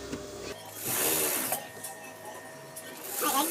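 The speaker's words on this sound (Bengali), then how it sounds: "এই এটাকে এইভাবে চাপ সেলাই করে নিচ্ছি" A sewing machine top-stitches pants fabric in short bursts, a whirring mechanical run rising and easing off, with a person talking over and between the stitching close by.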